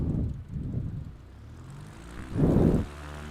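Simulated Cub Crafter Super Cub in Flight Simulator 2020 revving its propeller engine to full throttle, a low droning hum that swells in two pulses, dips, then surges loudly near the end, with no talking.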